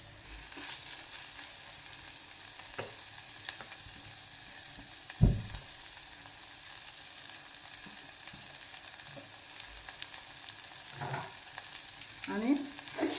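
Cooked potato bhaji with crushed peanuts is sautéed in a pan, a soft, steady sizzle broken by occasional spatula knocks and scrapes against the metal, heard close and fairly quiet.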